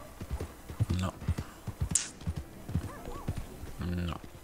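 Horse hooves clip-clop and a horse whinnies in Red Dead Redemption 2, the hoof steps coming in an uneven series up close while someone talks over them.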